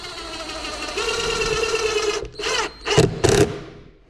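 A power screwdriver drives screws at an angle into a wooden cabinet drawer, a steady whirring motor followed by short bursts of grinding as the screws bite in, close and fairly loud.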